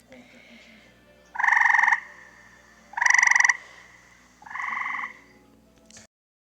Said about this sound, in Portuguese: A rã arbórea cinzenta faz assim.